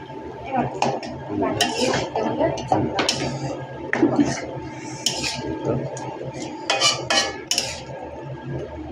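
A fish head goes into spice paste frying in a pan for spicy pulao, bringing metal spoon scrapes, clinks and sizzling stir sounds close by while people talk over it.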